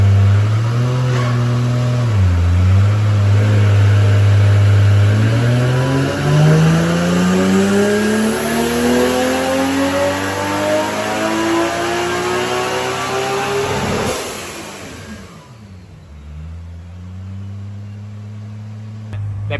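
A 1000 hp single-turbo BMW E90 335 with DCT gearbox revs loudly, engine pitch climbing steadily for about twelve seconds before cutting off sharply, then settling back to a lower drone near the end.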